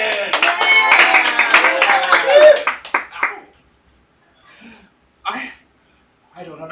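A live comedy audience claps in a dense, loud burst of applause for about three seconds, then it thins into scattered claps and fades out.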